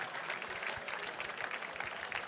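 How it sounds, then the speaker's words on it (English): A gala audience applauds steadily, a broad, even wash of many hands clapping together at a moderate distance, sustained without a break. "Can we give a big round of applause to everybody who raised their paddle tonight?"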